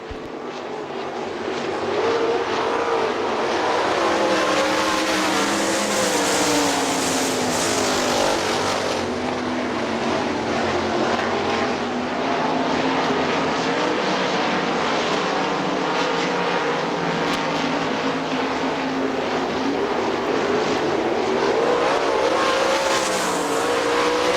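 AVSS 410 sprint cars race around Hartford Speedway Park in Hartford, Michigan, in 1999, their engines a dense, loud, continuous roar that swells and sweeps in pitch as the pack passes.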